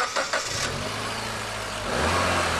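A 2008 Mitsubishi Lancer Evolution's 2-litre turbocharged engine cranks with a couple of quick catches, then settles into a steady hum before the revs rise, loud and close with no talking.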